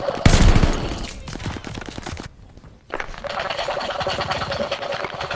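Bursts of automatic gunfire in Call of Duty Vanguard online multiplayer, loud and rapid. A short lull breaks the shooting before it resumes as a steady rattle.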